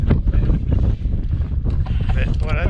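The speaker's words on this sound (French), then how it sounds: "Il commence à y avoir un peu de vent." Outdoor wind buffeting the microphone at a glider airfield, a steady broadband rumble throughout with a loud, continuous roar and faint voices underneath.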